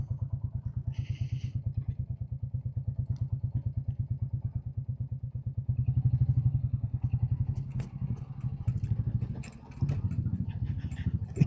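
A Royal Enfield Classic 350 single-cylinder motorcycle rides over cobbles, its steady low engine thump running throughout with rattling clatter and bumps growing louder and busier in the second half.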